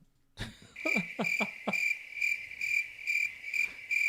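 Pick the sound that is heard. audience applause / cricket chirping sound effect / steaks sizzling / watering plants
cricket chirping sound effect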